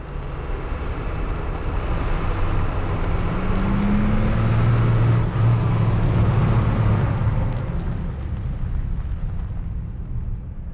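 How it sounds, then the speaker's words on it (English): A massive tundra buggy rolls across the Arctic tundra, its engine giving a continuous low rumble and drone that holds steady for around ten seconds before easing off slightly at the end. "Known as a tundra buggy, this massive vehicle allows scientists to observe polar bears in their natural environment."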